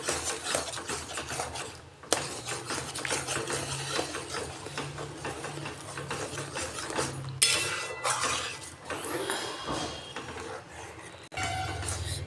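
A spoon scrapes and rubs steadily around a cooking pot of milk with Amul milk added, with close, continuous stirring and occasional metallic clinks.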